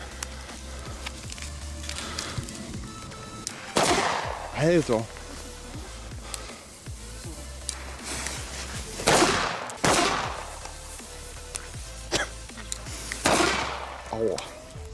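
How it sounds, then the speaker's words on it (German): Fire Event A-Böller firecrackers explode outdoors at New Year, several sharp, heavy bangs spaced seconds apart, each followed by crackling, with someone talking between blasts. "Das sind A-Böller von Fire Event,"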